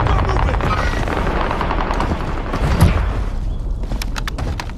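Gunfire in the Warzone video game, dense rapid automatic fire with sharp cracks and sniper shots mixed into a loud busy battle din, continuous and close.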